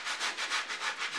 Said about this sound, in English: So, same thing, gonna use that elbow grease on these. Get your good scrub.